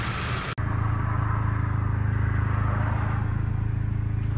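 A Ford EcoSport 2.0 engine, previously stumbling under acceleration, idles smoothly at working temperature after repair. A brief click cuts in, then a steady, close, humming drone runs evenly to the end.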